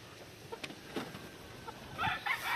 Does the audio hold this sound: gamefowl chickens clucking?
yes